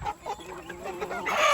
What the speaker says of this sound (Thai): โอ้ไก่กินยุบเดี่ยวหมดเลย